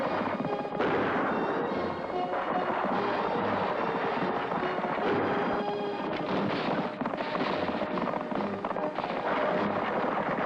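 Gunfire rings out during a stagecoach chase in a 1973 Australian TV stunt special: a dense, continuous barrage of shots and bangs over a busy, noisy background throughout, fairly loud.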